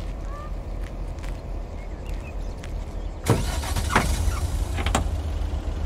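A car in the video game Lake: a steady low engine hum idles alone, then a door clunks open and a few short clicks and knocks follow as someone climbs out, with no voices.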